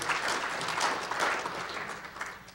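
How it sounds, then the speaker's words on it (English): Steady, moderate applause from a presentation audience, many hands clapping together evenly for a few seconds with no voices over it. "That's got to be worth a clap, surely?"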